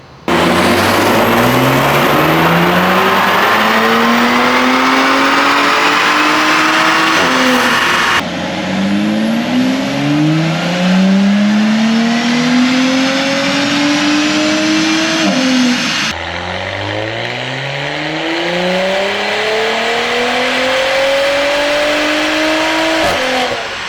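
Audi B9 S4 with an aftermarket downpipe on a dyno, its engine roaring loud and close through three repeated full-throttle pulls, each rising steadily in pitch before cutting off, with no talk.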